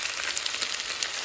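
Ingredients for a pork hock dish sizzle steadily in a hot pan, a dense continuous frying hiss with faint stirring clicks, close and without talk.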